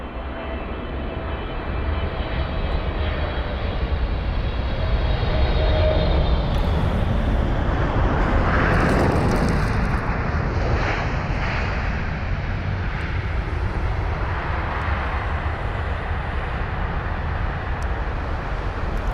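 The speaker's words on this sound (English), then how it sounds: "Here's our Air Canada 777-300ER." An Air Canada Boeing 777-300ER jet landing at London Heathrow, heard as a loud, continuous broadband roar that swells mid-pass and then holds steady as the airliner rolls out, with no talking.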